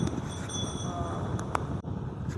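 An air cooler runs close by with a steady, broadband rush of fan and moving air that holds level throughout, briefly dipping near the end, with faint voice-like sounds in the background.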